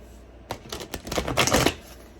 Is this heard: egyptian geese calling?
no